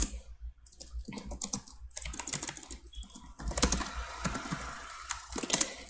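Someone types on a computer keyboard close by, producing bursts of quick, uneven key clicks with short pauses between them.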